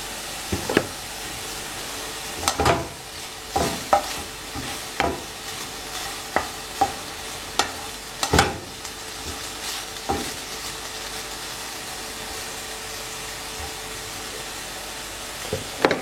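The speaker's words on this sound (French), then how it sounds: "C'est pour bien saisir la viande au début." Meat sears over low heat in a pan for carbonara, a quiet bed of frying hiss broken by sharp, irregular knocks and scrapes from the stirring utensil, close by and with no voices.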